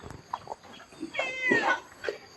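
Cat meowing at a Thai temple, Wat Pong Chai, giving one drawn-out, wavering meow in the middle, with short softer calls and small scattered noises around it.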